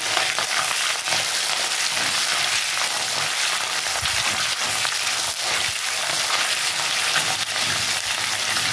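Ginger fries in oil in a pan for a vegetarian navaratan korma, giving a steady, loud, close sizzle that runs without a break, with faint stirring scrapes mixed in.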